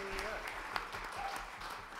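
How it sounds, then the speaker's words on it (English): Audience applause at a live concert by a folk band, a soft, fairly distant patter of many hands clapping for about two seconds. "Let's give a round of applause for Nia, please."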